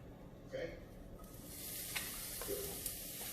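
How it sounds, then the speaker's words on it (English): A pound of ground beef sizzles in a cast iron skillet with olive oil, a soft, steady frying hiss with a few brief stirring scrapes and spits, close but quiet. "Now my cast iron skillet, put a little olive oil. Take 1 pound of ground beef."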